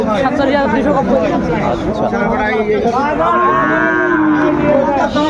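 A Sahiwal bull calf moos at a busy cattle market, its drawn-out calls rising and bending over close, loud chatter from people bargaining nearby.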